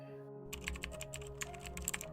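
Rapid keyboard typing clicks away close by over a steady low electronic hum.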